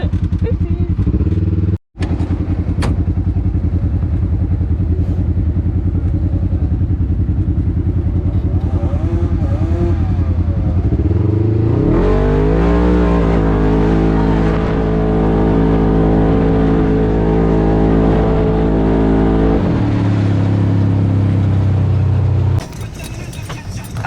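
A Jeep engine revs hard at a mud drag race, loud and close, climbing into a sustained high-pitched roar with rising harmonics before cutting back to a rough idle, while people talk over it.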